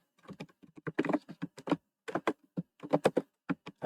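Someone types on a computer keyboard at close range, with quick irregular bursts of key clicks and brief pauses between them and no voices.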